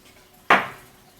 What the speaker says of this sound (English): now that the pressure is down, we're going to take the juggler off the pressure cooker.